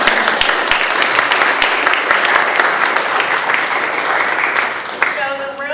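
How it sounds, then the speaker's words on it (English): An audience claps at the YWCA Kauaʻi 2022 County Council candidate forum, producing a loud, sustained wave of dense applause that holds steady and then tapers. A voice briefly rises at the very end. "I want to give you an applause as well"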